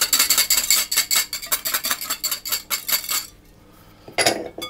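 Metal utensils clink and scrape in a large mixing bowl while flour, salt, baking powder and cheese powder go in for cheddar twists. The rapid, rhythmic clinking stops, a short quiet follows, then one last rattle.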